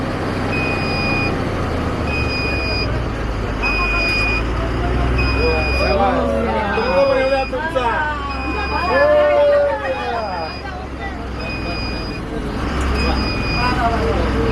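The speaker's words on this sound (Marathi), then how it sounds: "बसमध्ये बसून दौलत दरोडांनी स्वतः बस चालवून लोकार्पण केले" A new bus driven by MLA Daulat Daroda at a bus inauguration ceremony rumbles steadily while a tone beeps at a regular pace, under continuous crowd chatter and voices.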